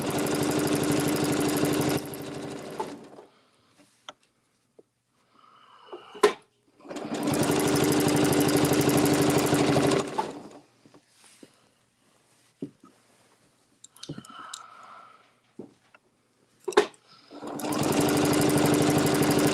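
A sewing machine stitches a quarter-inch seam toward a fabric corner, running in three loud steady bursts separated by quiet pauses with small handling clicks.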